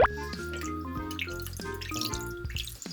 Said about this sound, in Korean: 물을 이렇게 따로 떠왔기 때문에 여기다가 씻어낼게요